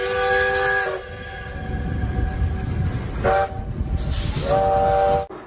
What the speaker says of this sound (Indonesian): ini ada kereta Thomas merah dan biru